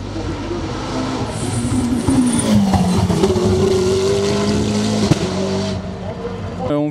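A race car climbs the Bagnols-Sabran hill climb course in the French mountain championship, its engine droning loudly and steadily and rising in pitch as it accelerates through the gears. The sound is continuous and close throughout.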